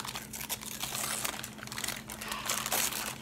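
Christmas wrapping paper crinkles and tears steadily as gifts are unwrapped close by, a continuous papery rustle with a few sharper crunching bursts, and no voices.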